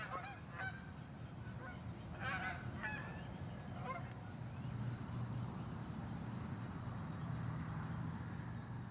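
Geese honk several times in the first few seconds, loud and close, over a steady low rumble of road traffic that continues throughout.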